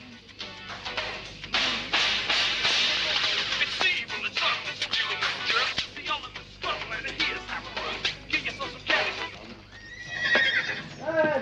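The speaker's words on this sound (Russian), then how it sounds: "Ты нашел лошадь?" A horse whinnies loudly and repeatedly, close up, with hooves clip-clopping beneath, on a worn VHS-quality soundtrack.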